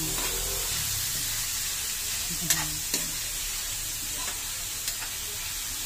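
Homemade spaghetti sauce with ground chicken sizzles steadily in a pan, a continuous frying hiss broken by a few soft stirring scrapes.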